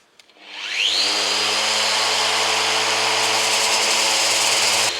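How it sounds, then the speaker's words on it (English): A Hoover vacuum cleaner switched on during sanding work, its motor whining up quickly to a steady loud drone with a high pitched tone that holds for several seconds, no talking. "is I've turned the Hoover on."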